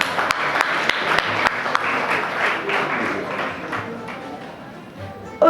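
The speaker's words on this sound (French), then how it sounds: "vous demander de l'applaudir très fort" Audience applause for the winner of a Miss Maths pageant at a school in Thiaroye: dense clapping with a few sharp individual claps standing out, tapering gradually before a sudden loud sound at the very end.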